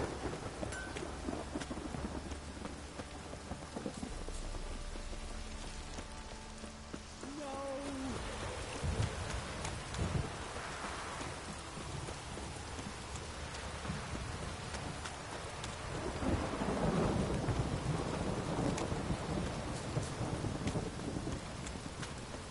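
Continuous rainfall hisses across the whole stretch, with low thunder rumbling in and swelling louder toward the later part, in the video game The Witcher 3.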